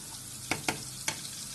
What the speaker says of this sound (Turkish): Ve bunu yakmadan güzelce kızartalım.